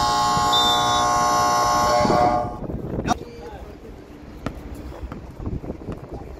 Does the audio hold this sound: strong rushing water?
no